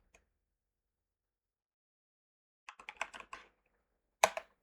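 Typing on a computer keyboard: an isolated click, then a quick cluster of key taps, and one final louder keystroke with a trailing tap, close and crisp in an otherwise silent space.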